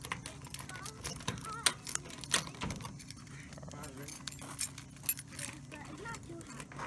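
A ring of keys jangles at a shop door as it is unlocked. The clinks are faint and irregular, with a few brief sharper chinks, and voices talk over them.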